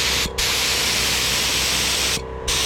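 A spray gun spraying during restoration of a 1966 Ford Galaxie 500 convertible, a loud steady hiss in two long bursts, cutting off briefly near the start and again near the end.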